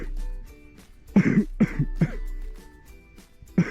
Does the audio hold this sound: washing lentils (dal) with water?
no